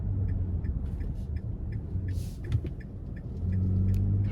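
A 2024 Nissan Frontier PRO-4X with a 3.8 V6 accelerates out of a corner in second gear, a low, steady engine drone heard from inside the cab with light road rumble, rising slightly in pitch near the end.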